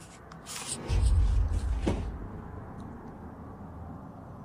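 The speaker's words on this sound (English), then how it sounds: "One of the drawers begins to slowly open all by itself" A bedroom drawer slides slowly open on its own, a low muffled scraping rumble that swells for about a second and then fades into quiet room tone.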